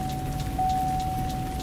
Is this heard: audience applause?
no